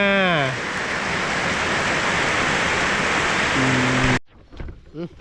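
Steady, heavy rain hisses loudly and evenly for several seconds, then cuts off abruptly, leaving faint murmuring afterward.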